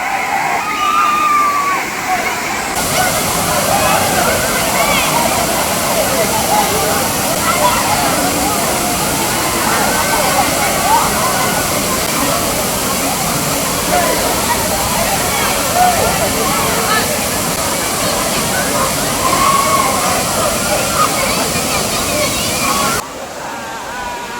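A waterfall roars as a steady, loud, close rush of water from start to finish, recorded on a trip through the Marayoor and Kanthalloor hills in Kerala.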